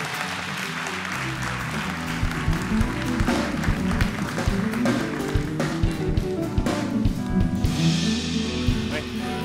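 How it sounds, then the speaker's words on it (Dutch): An audience at a Dutch late-night talk show breaks into loud, sustained applause as two guests come on stage, with dense clapping and some crowd noise throughout. "een hartelijk applaus voor Pim Takkenberg en Lodewijk van Zwieten"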